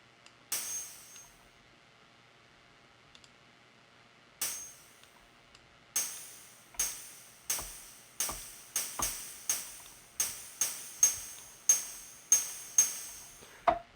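A series of bright, very high-pitched FM-synthesized sine-wave pings with quick decays, a few sparse at first, then a steady run of evenly spaced hits.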